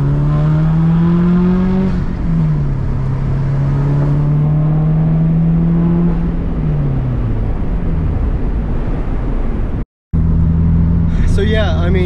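A 2001 Subaru WRX accelerating through its gears, the engine droning and climbing in pitch, dipping at each slow shift and rising again, loud from inside the car, with someone talking over it.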